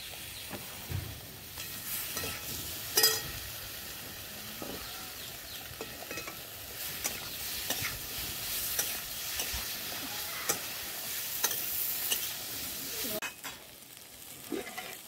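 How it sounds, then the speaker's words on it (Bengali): Ginger and poppy seed being stirred in hot oil for Bengali shukto, a steady sizzle with scraping spoon strokes against the pan, close and alone, with a few sharper clinks along the way. "আদা আর পোস্ত দিয়ে নাড়িয়ে নিয়েছি।"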